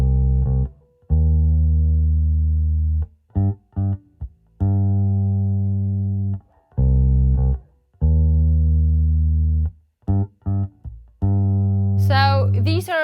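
Bass guitar playing a funk riff from a song, loud and close, with short rhythmic phrases separated by brief gaps, alone without talk.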